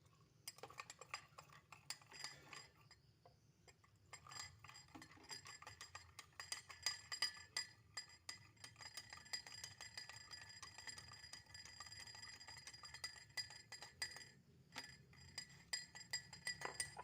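A spoon stirs salt water mixed with wheat flour in a glass, giving faint, rapid clinks and taps against the glass that continue in an irregular rhythm, quiet and close.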